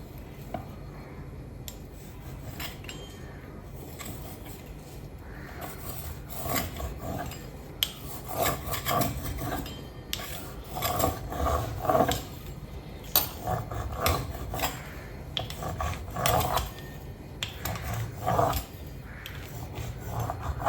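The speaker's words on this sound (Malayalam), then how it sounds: "ഒരു പിസ്സ കട്ടർ ഉണ്ടെങ്കിലേ നമുക്കത് ഇതുപോലെ കട്ട് ചെയ്തെടുക്കാം" Close, uneven scraping and rasping bursts as a cutter rolls through dough against a hard surface, repeated strokes with brief pauses between them.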